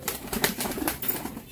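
A tumbler pigeon is released and flaps into flight, making a quick series of close, rhythmic wing beats and claps with no voices over them.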